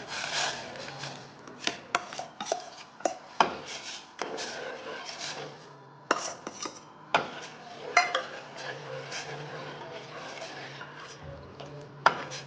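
A spoon stirs rice kheer in a cooking pot, giving irregular scraping and clinking knocks against the metal, with brief pauses between strokes and a low background hum throughout.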